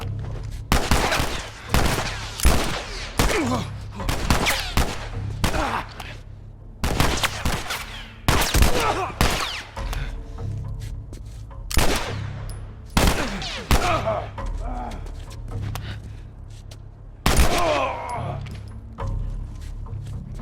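Gunfire in The Last of Us Part 1, loud sharp shots in irregular bursts spread across the span, some in quick clusters, with a game's ambient bed between them.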